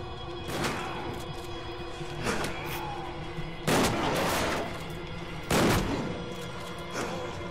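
Gunfire in the horror video game Silent Hill Downpour: several loud, separated shots or impacts ring out at irregular intervals over a droning game background, with no talking.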